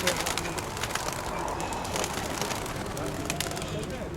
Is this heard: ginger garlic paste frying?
no